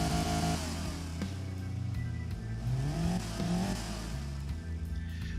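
Car engine in the Automation video game, a light 1960s utility sport build fitted with a standard low-flow air filter, revving up and down in rising and falling sweeps with a harmonic-rich drone and no talk.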